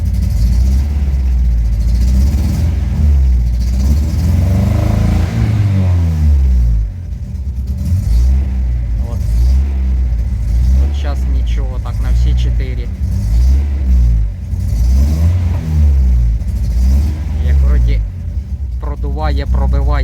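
An Opel C20NE engine with a misfire revs and surges unevenly, its loud rumbling pulses rising and falling near the microphone. People talk over the engine.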